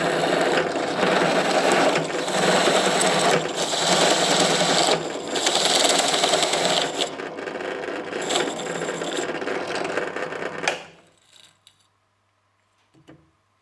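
A hand-held guitar pedal enclosure being drilled through, a steady loud whining grind running for about ten seconds before stopping, followed by a brief faint clatter near the end.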